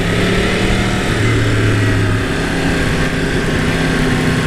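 A 2017 Yamaha R1 motorcycle engine drones steadily in first gear while riding through town, a loud, continuous close-up engine note with wind rush and no break.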